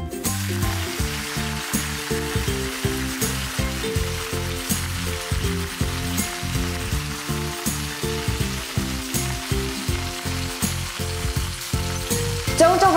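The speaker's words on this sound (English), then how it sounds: "I'm going to add olive oil to the same pan where we did the garlics before, and you want to have it on really high heat" Leaves sizzling in olive oil in a hot pan over really high heat, a loud, steady frying hiss with a rapid rhythmic clatter running through it, close and uninterrupted.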